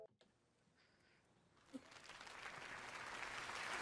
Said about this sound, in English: People clapping.